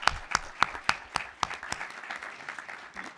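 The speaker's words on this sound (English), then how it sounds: "Could we have a round of applause for Joy, please?" Audience applause at a City of Casey special council meeting, starting with several loud, evenly spaced claps that blend into a steady, softer patter of clapping from a small indoor crowd, with no talking.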